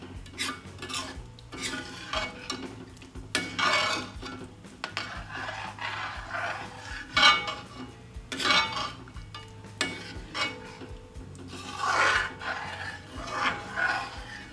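Banana payasam with powdered cardamom is stirred in a pot, making rhythmic scraping and sloshing strokes with light clinks of spoon on metal, close and moderately loud, with no one talking.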